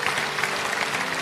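A church congregation claps in a brief burst of dense, moderately loud applause filling the hall.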